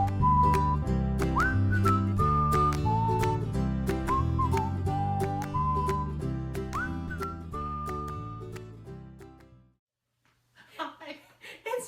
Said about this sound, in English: Right after the whistling.